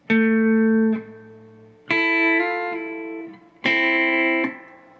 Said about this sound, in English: So part 4 played all together in slow will sound like this.